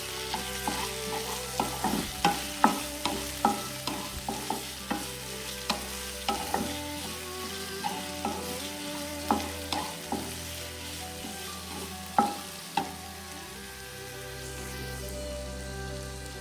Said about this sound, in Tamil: தக்காளி ஆட் பண்ணி நல்லா வதக்கி